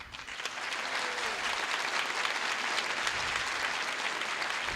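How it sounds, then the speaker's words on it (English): An audience applauds graduates at an adult learning center graduation ceremony, sustained full-room clapping that rises quickly and holds steady, loud and continuous throughout. "as a community, we applaud their accomplishments"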